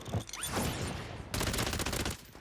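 Rapid bursts of assault rifle fire in the Warzone video game, fast crackling shots in a dense stream, loud and close, breaking briefly before a second sustained volley that cuts off sharply.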